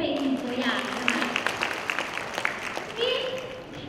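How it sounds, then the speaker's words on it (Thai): Moderate clapping from an audience at a leaders' meeting conference, a short burst of applause in the middle with a voice talking over the start and end. "ปรบมือให้หน่อยค่ะ"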